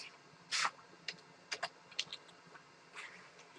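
Computer keyboard typed on in a few quick, sparse clicks, a handful of separate keystrokes close by and fairly faint, with no voices.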